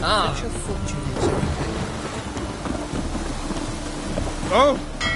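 Rain falling with rumbling thunder in The Witcher 3, a steady wet hiss with low rolling rumbles, mixed with game sounds and a few brief tonal effects.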